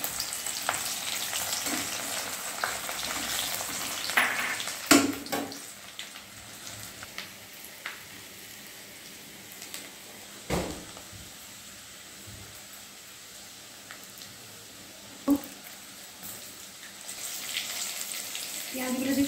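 Chopped garlic and bay leaves frying in hot oil for chilli chicken, a soft steady sizzle with occasional louder clinks and stirring knocks, no talking.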